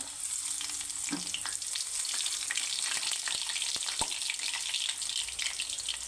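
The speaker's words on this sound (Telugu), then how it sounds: "ఆయిల్ హీట్ ఎక్కింది ఫస్ట్ కొద్దిగా ఆవాలు కొద్దిగా జీలకర్ర" Mustard seeds and cumin sizzle and crackle in hot oil, a steady close frying hiss broken by sharp pops and a few stirring clinks, with no talking.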